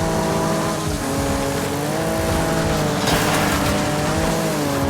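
Race car in The Crew 2 video game, engine droning steadily at high revs with shifting harmonic tones and a brief surge of tire noise midway, loud and continuous with no talking.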